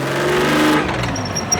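The engine of a large restored tracked vehicle runs loud and close, a dense, steady mechanical roar with a faint whine rising near the end.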